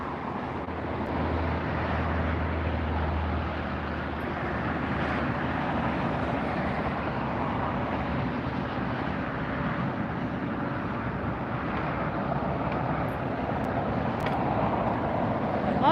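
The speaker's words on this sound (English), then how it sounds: "Looks like the Emirates A380 too." Emirates Airbus A380 airliner at LAX airport, a steady broad roar of jet engines held at an even level for the whole stretch, distant and continuous with no talk over it.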